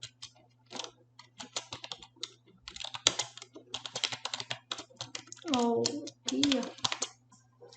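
Quick clicking keystrokes on a computer keyboard come in bursts, close and crisp, while a person talks briefly over the typing.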